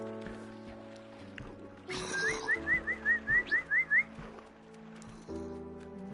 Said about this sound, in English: I now have a pet bird.